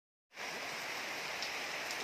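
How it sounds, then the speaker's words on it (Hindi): Heavy rain at a zoo begins abruptly and continues as a dense, steady hiss of downpour with no breaks. "बारिश बहुत ज्यादा तेज है।"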